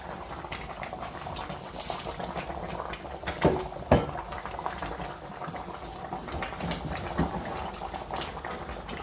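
Ogbono soup bubbling in a pot, a steady low simmer of liquid with a couple of louder pops and clatters around the middle, close by and with no talking.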